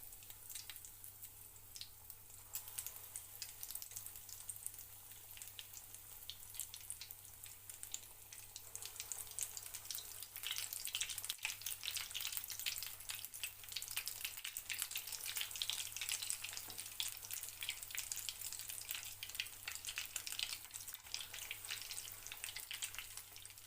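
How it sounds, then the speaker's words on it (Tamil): Bread balls deep-fry in hot oil in a kadai, giving a steady, fairly quiet bubbling sizzle that swells slightly partway through, with no talking. "இப்போது ஒரு கடாயில் எண்ணெய் சேர்த்து எண்ணெய் நல்லா சூடானதும் எல்லா பிரெட் பால்ஸையும் பொரிச்சு எடுத்துடலாம்."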